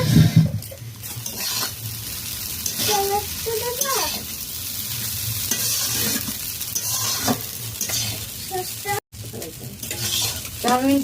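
A spatula stirs and scrapes fried egg through egg chowmein with vegetables in a hot pan, loud continuous sizzling with repeated metallic clinks, and a voice talks briefly.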